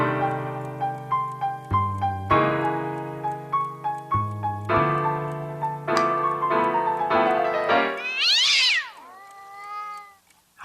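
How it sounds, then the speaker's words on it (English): A cat meows repeatedly indoors, a series of loud, close, drawn-out calls at an uneven pace that rise into a longer, wavering caterwaul near the end before falling quiet. "How the hell did you get in here, cat?"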